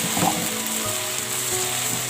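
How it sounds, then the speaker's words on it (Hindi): Okra fries in a pan with soy sauce, giving a steady close sizzle with light scraping and stirring clicks over the hiss. "सोया सॉस के साथ हम इसको फ्राई करेंगे और हम इसको थोड़ा थोड़ा गोल्डन कर देंगे"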